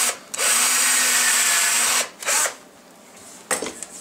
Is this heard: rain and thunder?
no